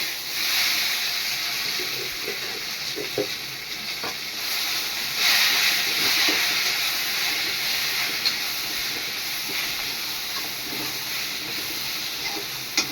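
Curry leaves, coriander and mint fry in a pan with steady loud sizzling and hiss. A few stirring scrapes and clinks break through the frying at moments.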